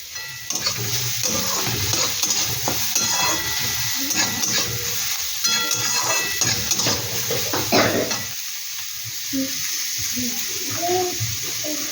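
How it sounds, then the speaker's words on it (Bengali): Capsicum frying in a pan for a paneer potato sandwich filling, with a steady close sizzle and stirring clatter throughout; a voice talks over part of it. "দিয়ে দিলাম ক্যাপসিকাম, এটাও দিয়ে একটু ভালো করে একটু ভেজে নেবে"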